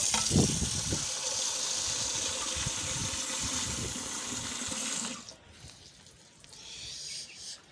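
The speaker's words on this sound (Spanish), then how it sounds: "Voy a ponerle su agua limpia ya, para que estén más tranquilas" Running water poured and rinsed while giving clean water to caged chickens, a steady splashing flow with a few louder sloshes near the start, stopping abruptly partway through and leaving quieter room noise.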